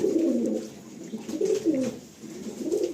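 Pigeons coo softly in a loft near an airport, with repeated low rolling calls rising and falling in gentle overlapping waves. The calls are fairly close and continue without talk.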